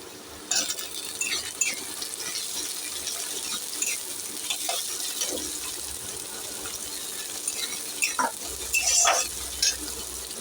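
Onion and tomato crackling and frying in a pan, with intermittent scraping and clinking as they are stirred, close up over a steady hiss.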